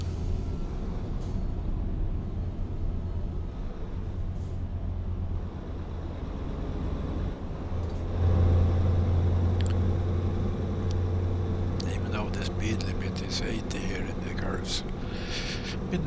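A truck engine in Euro Truck Simulator 2 drones steadily as the vehicle eases off cruise control and slowly loses speed, a continuous low rumble with quiet talk over it and some clicks near the end.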